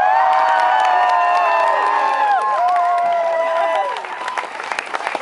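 A loud concert crowd cheers, whoops and applauds at an outdoor medieval festival in Karlsruhe in 2012. Shrill voices rise above steady clapping and thin out toward the end.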